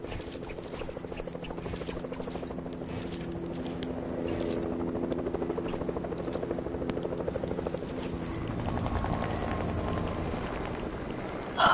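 Video game helicopter with a steady rotor drone and thrumming low chop, continuous and loud, swelling slightly midway with scattered game effects over it.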